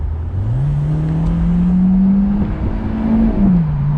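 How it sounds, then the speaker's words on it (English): A 2006 Audi TT Roadster 1.8 turbo pulls hard under throttle, its engine note climbing steadily in pitch, holding, then dropping back near the end, loud and continuous with no talking. "I'm gonna go ahead and hit the gas down a little bit and let you see how the acceleration is."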